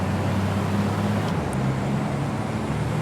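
A racing truck from the ETRC game roars around the Jarama circuit, its engine a steady, loud drone with low rumbling tones throughout and no pauses.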